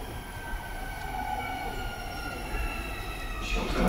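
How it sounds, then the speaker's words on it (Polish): A Warsaw Metro line 2 train rolls into a station, a steady rising rumble with whining motor tones, heard from the platform and growing louder toward the end. "Uwaga, pociąg, kierunek Bemowo."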